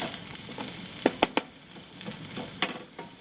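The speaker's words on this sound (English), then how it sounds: "Onions are grilling up. Squash is starting to brown." Onions and squash sizzle steadily on a camp grill outdoors, a close, continuous crackling hiss broken by a few sharp pops and spatters, with no voices.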